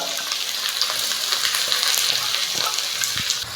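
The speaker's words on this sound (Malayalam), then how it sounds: "ഒരല്പം ഉപ്പ് കൂടി ഇട്ടിട്ട് നമുക്ക് സവാള ഒന്ന് വഴറ്റിയെടുക്കാം" Two sliced onions sautéing in hot oil with a pinch of salt, a loud dense continuous sizzle up close with a few stirring scrapes near the end, no talking.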